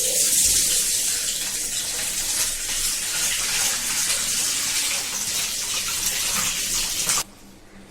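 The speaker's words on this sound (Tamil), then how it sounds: "முதல்ல ஒரு தண்ணி போட்டு அலசிடணும்." Water gushes and splashes steadily as cut shark fish pieces are rinsed, the loud running-water hiss continuing until it abruptly stops near the end.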